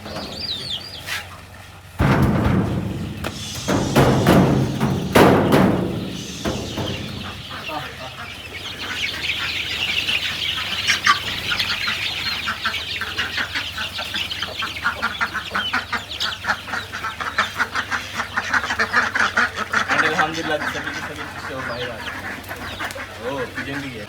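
Chicks and ducks from a 400-bird chicken business cluck, cheep and quack in a busy, continuous chorus close by, with a few louder knocks and scuffles early on.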